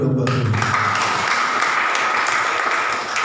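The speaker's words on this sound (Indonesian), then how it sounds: "Kasih tepuk tangan dulu dong buat ini." Audience at a church event breaking into applause, a dense, continuous patter of many hands that starts abruptly and holds steady at moderate loudness.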